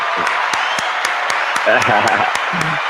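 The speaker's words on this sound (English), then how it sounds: "Let me give you some applause, John" A canned applause sound effect played by a radio-show host, a steady wash of clapping with a few sharper claps, mixed under the host's voice talking over it.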